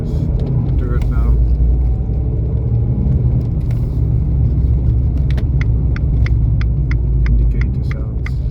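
An Abarth 595C Turismo 1.4 turbo with a Monza four-pipe exhaust rumbling steadily from inside the cabin during gear changes, with a string of sharp indicator ticks in the second half.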